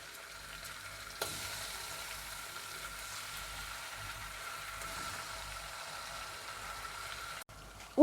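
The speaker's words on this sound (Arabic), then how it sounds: "هنبدأ ننزل بس الكبدة، نقفل المسام بتاعتها" Chicken liver frying with garlic in hot oil in a pan, a steady dense sizzle running throughout, close and fairly loud, with a sharper flare of crackling partway in and no voices.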